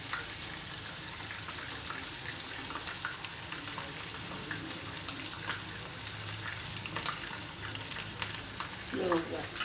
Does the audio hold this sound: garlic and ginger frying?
yes